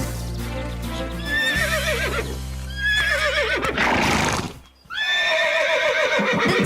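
A horse neighs in a western film, with repeated loud, shrill whinnies rising and falling over a dense background, then a brief dip to near silence before another strong whinny.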